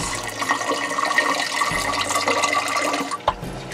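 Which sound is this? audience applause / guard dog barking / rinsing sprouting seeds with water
rinsing sprouting seeds with water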